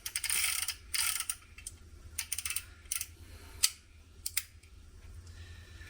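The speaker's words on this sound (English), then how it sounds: "There's nothing smooth about sliding that pin back in." Metal pin sliding back into a new Ruger Bisley Vaquero revolver. It makes coarse, gritty scraping and clicking in several short bursts, close and fairly quiet, and no one speaks.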